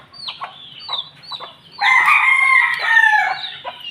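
Backyard chickens cluck in short repeated bursts, then a rooster crows loudly and close, with chicks among the flock.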